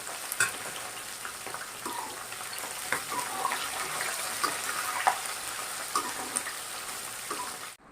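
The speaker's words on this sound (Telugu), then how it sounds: "అలాగే కొంచెం కరివేపాకు వేసుకుందామండి. కట్ చేసినటువంటి పచ్చిమిరపకాయలు కూడా వేసుకుందామండి." Curry leaves and cut green chillies frying in hot oil for chicken 65 give a steady, fairly loud crackling sizzle with small pops throughout, which stops abruptly at the end.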